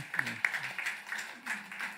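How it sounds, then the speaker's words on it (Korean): A church congregation at a Sunday worship service claps together in praise, a moderate wash of applause with a few sharper hand claps and some voices mixed in. "우리 하나님께 영광의 박수를 드립시다"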